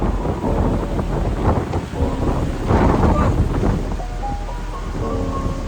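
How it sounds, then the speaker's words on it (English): Strong wind buffets the microphone in heavy, rumbling gusts that rise and fall throughout. "It's so windy, do you hear that?"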